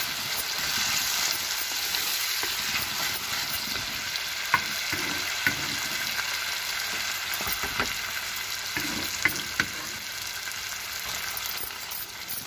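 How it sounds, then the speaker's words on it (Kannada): Crushed tomato sizzling in a pan over low heat while making tomato chutney, a steady close frying hiss broken by a few soft clicks of stirring, with no voices. "ಟೊಮೊಟೊ ಕುಟ್ಟಿ ಇಟ್ಕೊಂಡಿದ್ವಲ್ಲ ಅದನ್ನ ಹಾಕ್ತಾ ಇದ್ದೀನಿ"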